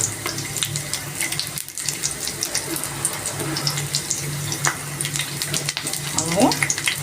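Carrot and capsicum frying in a pan for egg chicken rolls, a steady close sizzle with scattered clicks and scraping, and a brief rising tone near the end.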